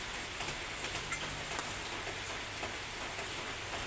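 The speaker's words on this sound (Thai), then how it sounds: "ภาพบรรยากาศ ฝนตกพี่น้อง ฝนตกฝนตกดิน" Rain falling outdoors in rural northeastern Thailand, a steady dense hiss with faint scattered drop patter, continuous and fairly soft, with no voices.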